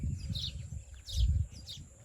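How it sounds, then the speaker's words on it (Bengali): Baya weavers chirp around their hanging nests in a palm tree in the village countryside, short high twittering calls repeating over a low rumbling background, fairly faint and a little distant. "এই যে এখানে পাখিগুলা কিচিরমিচির করছে আপনাদের"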